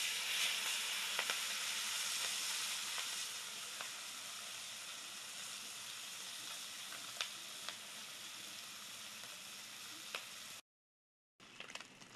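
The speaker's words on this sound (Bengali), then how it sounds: "গরম হয়ে গেছে, মাছ ঢেলে দেই।" Small fish sizzling in hot oil in a Bengali home kitchen, a steady crackling hiss with scattered pops that softens after a few seconds and breaks off briefly near the end before resuming.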